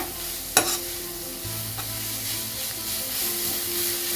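Vegetables for paneer schezwan noodles are stir-fried over full high flame, a soft steady sizzle broken by a sharp utensil clank near the start and occasional stirring scrapes, with no talking.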